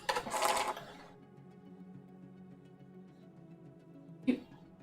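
A home sewing machine, used while sewing a waistcoat, runs in a short loud burst and then goes quiet; a second brief mechanical burst follows near the end, with low hum and faint room noise in between.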